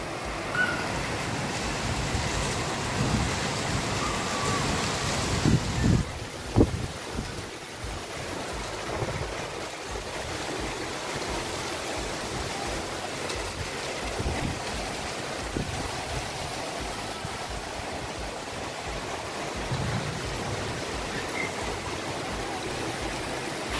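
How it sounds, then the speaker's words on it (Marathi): Heavy monsoon rain pours down on Raksha Bandhan, a loud continuous roaring wash with a brief burst of clatter partway through, then steady downpour to the end. "आज रक्षाबंधन आहे तर किती मोठा पाऊस येतोय बघा"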